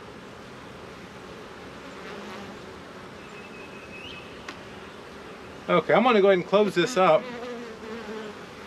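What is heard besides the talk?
bees buzzing at a hive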